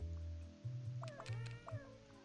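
Cartoonish cat meows pop up in the puzzle game Cats Organized Neatly, a few short mews in quick succession over a soft, steady backing tune, close and clear, with no talking.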